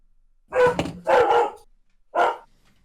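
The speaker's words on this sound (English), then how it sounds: "Rare to hear Rigby bark." A dog barks close by indoors, two quick gruff barks followed by a third after a short pause, loud and clear with no talking.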